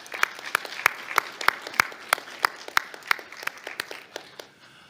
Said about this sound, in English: Please, could you give yourselves a round of applause?